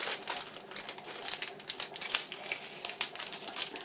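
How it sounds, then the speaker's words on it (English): Plastic kit bags rustle and crinkle close up in quick, irregular bursts, fairly quiet, with no one speaking. "I think to minimise rustling, I might just do a bag at a time"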